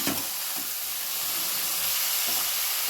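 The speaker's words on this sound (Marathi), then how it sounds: "वाफेवर आपल्याला ही भाजी छान शिजवून घ्यायची मंद गॅसवर" Chopped kardai greens cooking in a pan over a low gas flame, giving a steady soft sizzle and hiss of steam, close and continuous with faint stirring knocks.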